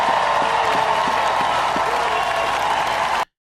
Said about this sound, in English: those the ratchet black women clapping their hands